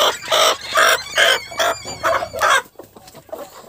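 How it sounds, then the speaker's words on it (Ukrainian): A Cochin hen gives a run of loud, close clucks in quick rhythmic bursts, then goes quiet near the end with only faint background left. "Курочка сидить у мене ось тут."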